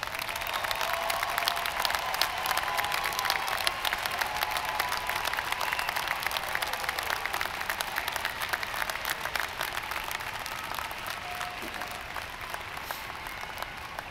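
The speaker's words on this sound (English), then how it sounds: "Let's give them all a round of applause." Sustained applause from a commencement ceremony crowd, a steady dense patter of clapping held at moderate distance that carries on evenly for the whole stretch without voices.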